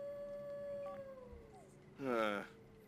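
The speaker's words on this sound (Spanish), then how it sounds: "Aullar." A werewolf in The Sims 4 lets out a single rising howl near the end, wavering and fairly clear, after a stretch of soft game music with faint tones.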